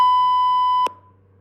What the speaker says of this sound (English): So this is the sound of a sine wave.